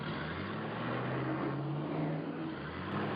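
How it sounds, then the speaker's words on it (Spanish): A car engine rises in a steady roar, accelerating under load with a smooth climbing drone that holds fairly distant and even throughout, with no voices. "cuando el coche entra en una recta, vuelve a acelerar"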